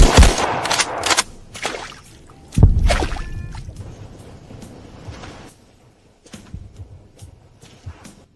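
Battle erupts on a cliffside in a fantasy drama: sharp gunshot-like cracks and heavy artillery booms strike in irregular bursts, some near and loud, others fainter, with scattered distant impacts trailing off.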